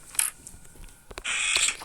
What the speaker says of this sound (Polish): No i teraz są potrzebne drzwi. Otwieramy